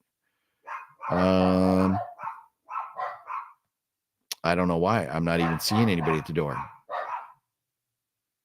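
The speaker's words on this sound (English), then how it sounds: "The dogs will stop barking in a second." Dogs in a house bark loudly and repeatedly toward the front door in two bursts, one long and one shorter, while someone talks between the barks.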